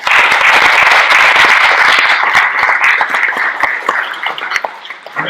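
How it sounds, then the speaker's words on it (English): Dense applause from an audience at a community forum on faith and housing, loud and steady for several seconds before thinning out and tapering toward the end. "Give everyone a round of applause"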